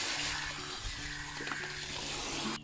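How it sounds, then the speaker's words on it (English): Water pours steadily into a bucket being filled for compost tea, a continuous close splashing hiss with a slight rise in pitch near the end. "resume filling the rest of your bucket"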